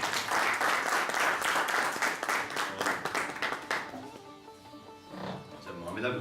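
An audience at a poetry gathering in Barcelona breaks into loud, dense clapping that tapers off after about four seconds. A voice and a few scattered claps follow.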